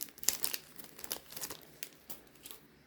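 Plastic wrap on a Dominaria United set booster box being torn and crinkled open, a run of close, quiet crackling and ripping bursts with no talk.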